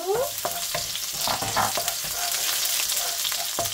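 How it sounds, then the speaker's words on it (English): Garlic tipped into a hot pan for tomato and basil pasta, crackling and sizzling loudly up close with scraping stir strokes and brief clatters, no talking. "now we're going to be adding our garlic"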